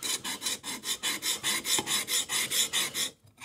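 The bevel of a Chinese bao jack plane blade is flattened with about fourteen steady, evenly timed rasping strokes back and forth. The scraping is close and heard alone, then stops just before the end.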